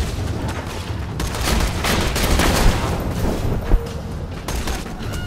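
Dense gunfire in the video game Borderlands 2, a continuous barrage of close, loud shots and bursts with a couple of sharper impacts standing out.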